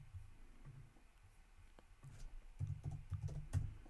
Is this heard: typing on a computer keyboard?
yes